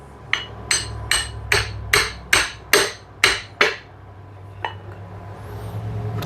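Hammer blows driving a piston out of a 1955 Dodge Royal engine during teardown, about nine sharp metallic strikes at a steady pace, then one last lighter hit after a pause.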